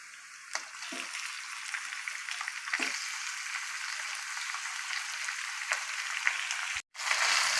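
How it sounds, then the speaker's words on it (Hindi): Half a kilo of chicken mince frying in masala, a steady close sizzle with a few spatula scrapes and a brief break near the end, no talk. "इस टाइम पे आके हम इसमें कीमा शामिल करेंगे। हाफ के जी कीमा है चिकन का।"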